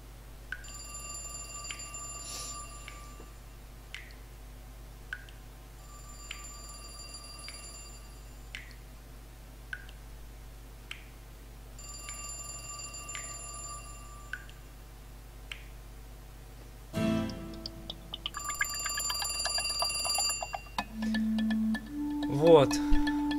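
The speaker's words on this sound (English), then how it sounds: "I didn't even hear the phone ring at first," A telephone rings in The Cat Lady video game, sounding repeated electronic ring bursts at a steady rhythm, followed by a low thud and shifting synthetic tones near the end, with no talking.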